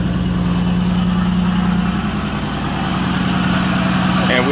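Car engine idling with a misfire, a loud close continuous low rumble with a steady hum and slight uneven pulsing throughout.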